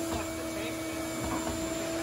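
A new vacuum cleaner runs at full power, a loud, steady whine with strong sustained tones and no breaks, close by.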